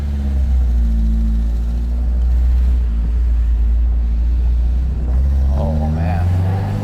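A 1977 Toyota Celica fitted with an F22C engine and six-speed transmission revs hard toward 9000 rpm, a loud, continuous low engine drone rising in pitch near the end, heard from inside the car with people talking over it.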